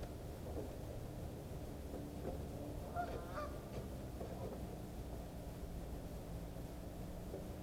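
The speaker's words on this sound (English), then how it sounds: "And here come the birds." Geese and other fowl honk faintly at a distance as they approach to be fed outdoors, over a steady low rumble of background noise.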